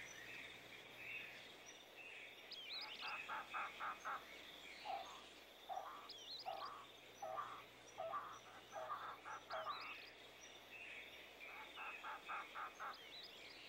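Wild birds call in the Chiricahua Mountains of southeastern Arizona, with repeated rhythmic chirping phrases over a steady buzz of insects, faint and distant.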